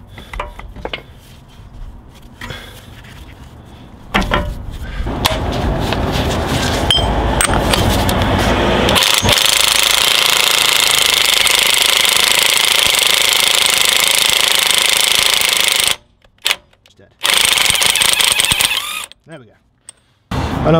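Impact wrench with a chrome 32mm socket on a Land Rover Discovery 2 TD5 wheel bearing nut: after some quieter clanks, a loud, sustained rattling hammer runs for several seconds, briefly cutting out and resuming near the end.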